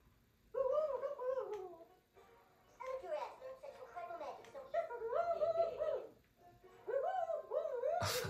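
Big cats in the South Park: The Stick of Truth video game purr and give drawn-out, wavering meows in repeated bursts, loud and close, with short pauses between them.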